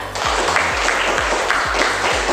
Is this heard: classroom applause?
yes